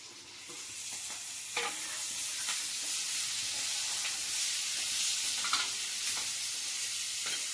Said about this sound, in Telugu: ఇప్పుడు పసుపు, ఇప్పుడు కాకరకాయలు టమాటాలు వేద్దాం